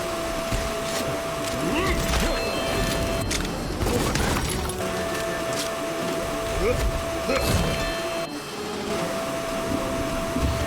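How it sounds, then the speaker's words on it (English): A vacuum tool in the video game My Time in Sandrock runs as a steady whirring drone through the whole stretch, with brief clatters and bursts mixed in and no talk over it. "Time to use the vacuum."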